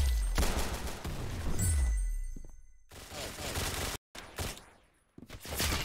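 Rapid gunfire bursts from the Roblox game Arsenal, loud bursts of shots with booming low impacts, broken by brief silent gaps and then more volleys.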